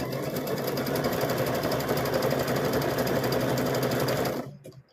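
A sewing machine stitches across rope with a steady, fast, even whirring rattle for about four seconds, then stops abruptly.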